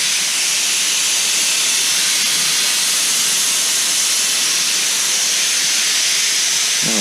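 Compressed air hisses out of an air line in a workshop, a loud, steady, broadband rush that holds unbroken for about seven seconds.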